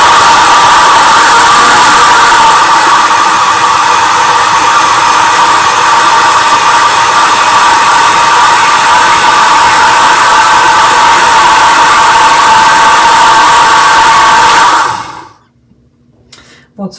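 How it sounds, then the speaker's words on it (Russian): Butter being whipped in an electric blender or mixer for a homemade cough remedy, a loud, steady motor whir that runs for about fifteen seconds and then abruptly stops. "А если его взбить в блендере или миксером, то, наверное, получится хорошая смесь."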